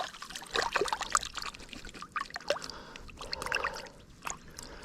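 Water splashes and trickles while a freshly caught creek fish is rinsed out after gutting, irregular close pouring and sloshing bursts with small splashes, fading toward the end.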